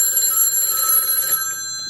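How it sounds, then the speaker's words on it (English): A Western Electric 500 desk telephone rings its mechanical bell loudly and steadily for over a second with bright sustained metallic tones, then the ringing cuts off, leaving a lingering ring-down. "The phone does ring."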